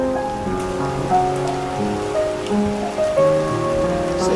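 Steady rain falling and pattering on a surface, a continuous even hiss heard alongside sustained tonal music.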